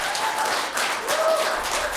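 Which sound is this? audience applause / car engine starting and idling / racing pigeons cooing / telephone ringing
audience applause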